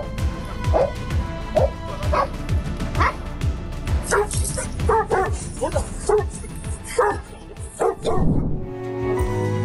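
Rescue dogs barking in a rapid, loud series of sharp woofs and yips, with a few whimpering notes mixed in, over a busy background where voices seem present.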